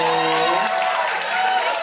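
An audience at a drag show breaks into dense applause with some cheering, loud and continuous over a brief stretch, with a voice trailing off at the start.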